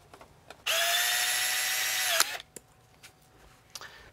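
A power tool cuts a short piece of pond pipe in one loud, steady burst of about a second and a half, then stops, followed by a few faint knocks and handling sounds.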